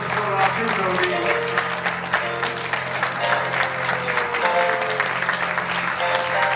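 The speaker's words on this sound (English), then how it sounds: "And a special round of applause for our two ladies." Audience applause for two ladies at a golf club presentation evening, with steady, full clapping from a roomful of people and some chatter mixed in underneath.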